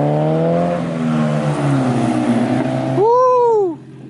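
Toyota MR2 Spyder (MR-S) engine and exhaust droning loud and steady, then swelling into a sharp rising-and-falling rev near the end before cutting off, with no talking.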